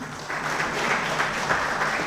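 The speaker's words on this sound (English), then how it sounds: "So a round of applause for them" Sustained applause from an audience at a pan-African forum on culture, arts and media, steady dense clapping at moderate loudness with no voices standing out.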